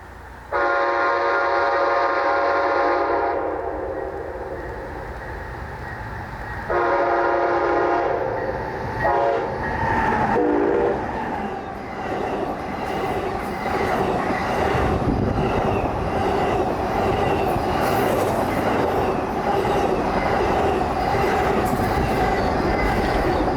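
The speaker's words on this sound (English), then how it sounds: "waiting on northbound auto train PO52 with 2 chargers at the head end as they fly by at track speed bound for Lorton, Virginia" Amtrak northbound Auto Train P052 led by two Charger locomotives roars past at track speed in Folkston, Georgia, opening with a loud sustained horn blast, then a continuous heavy rumble and clatter of passing cars.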